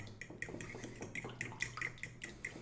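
A fork whisks salad dressing seasoned with salt and black pepper in a dish for a grilled eggplant, zucchini and feta salad, producing quick, irregular metallic clinks and scrapes, close and fairly quiet.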